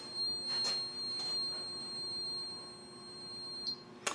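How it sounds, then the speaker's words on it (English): A kiln controller at power-on holds a high electronic beep tone steadily for several seconds, with faint rustling and a few soft clicks around it and a sharp click at the end. "When you turn the power switch on, it should make a loud beeping sound for a few seconds"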